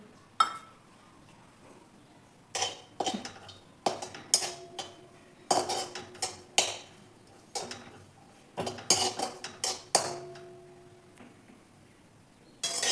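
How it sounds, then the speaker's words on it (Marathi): Coconut being dry roasted in a metal pan, with repeated scraping and clinking strokes of a spatula against the pan in irregular bursts, close and moderately loud, with no talk. "आता खोबरं पण भाजून घेऊ."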